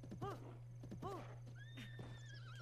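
In The Legend of Zelda: Breath of the Wild, a horse whinnies twice in quick rising neighs, followed by a few hoof clops and a long electronic tone from the game.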